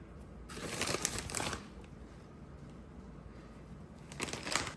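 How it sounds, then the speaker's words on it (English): Two bursts of dry crackling and crunching, Ritz crackers being crushed, separated by a quieter stretch; close and moderately loud, with no talking. "We're going to crush up some Ritz crackers"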